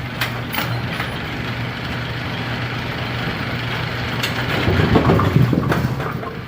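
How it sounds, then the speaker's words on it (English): Mechanical clanking and ratcheting from a bowling pinsetter, with the rake board's rougher scraping grind against the pin deck swelling near the end over a steady low hum. "Hear the rake board scraping the pin deck a little bit."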